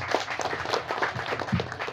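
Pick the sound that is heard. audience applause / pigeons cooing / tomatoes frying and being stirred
audience applause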